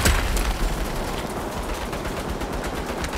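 Automatic turrets in the Saints Row video game unleash a loud, sustained barrage of rapid gunfire, with a heavy burst at the start that continues as dense, unbroken rattling for a few seconds.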